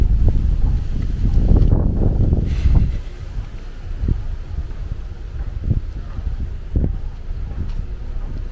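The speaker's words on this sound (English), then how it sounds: "Very, very windy. The place is very windy." Strong wind gusting through trees in the East Legon neighbourhood of Accra, a loud rushing blast that fades after a few seconds into quieter, intermittent gusts and faint buffeting.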